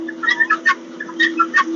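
Chickens cluck in several short, close bursts while they are being fed and watered on a farm, over a steady low background hum.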